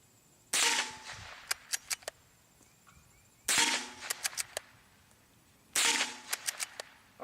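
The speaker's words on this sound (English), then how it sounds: "I'm going to fire CCI mini mags." .22 rifle firing CCI Mini-Mag rounds outdoors, three loud sharp reports spaced about three seconds apart, each followed by short echoing cracks off the surroundings, with no talking.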